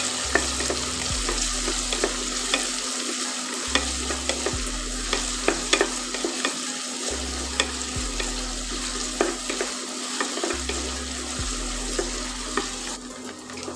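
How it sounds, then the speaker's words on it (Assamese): Onions sizzle steadily as they fry in a pan, with repeated scraping stirs at a regular rhythm, close and fairly loud with no talking. "পিঁয়াজখিনি চব ভাজি লোৱা হৈ গৈছে"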